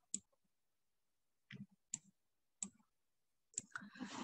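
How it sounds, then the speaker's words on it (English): Sharp, quiet mouse clicks on a computer while working with a 3D lattice plot in Origin: a single click, then spaced pairs of quick clicks, with a rustling burst near the end. "I will double click on this image."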